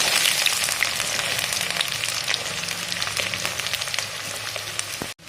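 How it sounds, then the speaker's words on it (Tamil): Onions sizzle in hot oil for a South Indian dried-fish curry, a loud, dense crackle with quick popping bursts that runs steadily and cuts off abruptly at the end. "இப்போ பார்த்தீங்கன்னா வெங்காயம் போட்டாச்சு"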